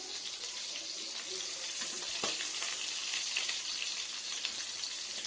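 Tomatoes roasting in hot oil for tomato rasam, a steady, close sizzle and crackle of frying with a few small pops, continuous throughout and with no voices.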